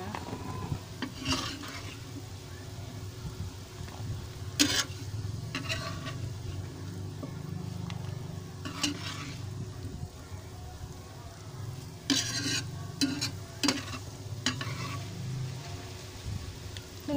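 Spice paste for terasi balado potatoes being stirred and fried in a pan, a steady sizzle under repeated scraping and clinking of a utensil against the pan, close and continuous.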